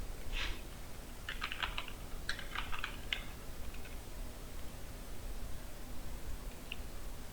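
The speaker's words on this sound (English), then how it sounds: "Also I'll type new text." Computer keyboard typing in short bursts of clicky keystrokes, clustered in the first few seconds with a lone tap later, close and moderately quiet over a low steady room hum.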